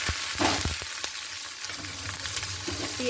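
Steady sizzling of onion and potato frying in hot oil, with occasional stirring clinks and scrapes, close up and with no talking.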